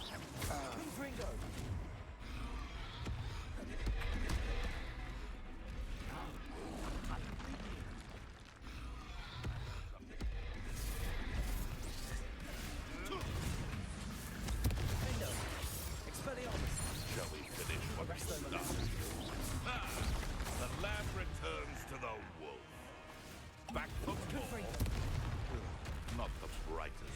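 Spell blasts and magic combat effects from the video game Hogwarts Legacy, a dense, continuous barrage of bursts and booms layered with game music and character shouts throughout.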